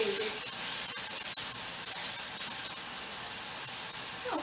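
Aerosol cooking spray is sprayed over a kitchen sink in a continuous close hiss that rises in a few short pulses, with a brief voiced sound at the start and end.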